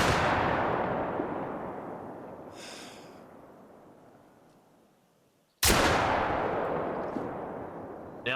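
Two loud shots from a Greleck Drilling Rifle in the hunting game theHunter: Call of the Wild, each a sharp crack followed by a long rolling echo that fades over several seconds, with no talking.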